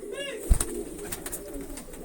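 Pigeons in a loft coo in short, low murmuring calls, with a sharp thump partway through and quiet ambient noise around them.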